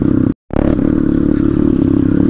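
A Crossfire RM 250 motorcycle, running hot, drones steadily and close on an off-road trail, its engine briefly cutting out for a moment before resuming.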